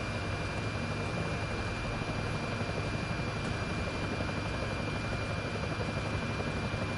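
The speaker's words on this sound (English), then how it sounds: "Enemy helo sighted." Enemy helicopter in a video game, a steady dense rotor and engine drone filling the scene at constant loudness without a break.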